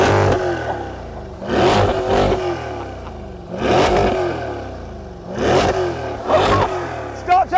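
Naturally aspirated V8 of a 2020 Chevrolet Corvette C8 fires up and is blipped repeatedly, loud close revving bursts rising and falling about four times with brief idle gaps between.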